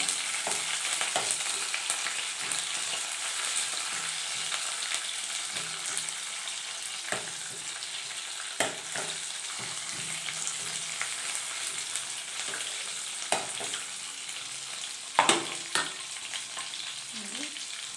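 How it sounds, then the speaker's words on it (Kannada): Curry leaves frying in hot oil for a methi dal, a steady close sizzle and crackle with occasional louder pops and a few stirring scrapes, no voices. "ರಂಡೆಯಷ್ಟು ಕರಿಬೇವು, ಆಮೇಲೆ ಫ್ರೈ ಮಾಡ್ಕೊಳ್ಳಿ ನೀಟಾಗಿ."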